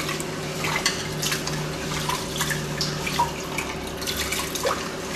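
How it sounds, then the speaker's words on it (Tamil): Rice and split lentils being rinsed in water in a kitchen vessel before making pongal, with steady splashing, swishing and trickling of water, close and continuous, with a faint background hum. "ஒரு 2 டைம் தண்ணி ஊற்றி அலசினா போதுமானது."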